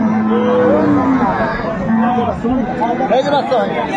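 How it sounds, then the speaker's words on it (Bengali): Cow with her calf at a cattle market at Aftabganj haat, with low moos and lowing rising through constant crowd chatter and people talking nearby. "বেশ সুন্দর গাভী বাছুর"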